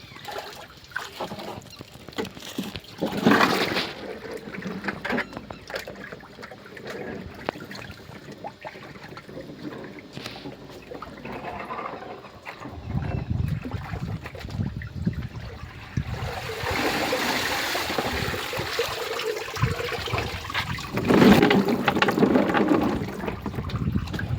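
Lemons being washed by hand in water, with continuous sloshing, splashing and trickling that swells louder in the second half, and no talking.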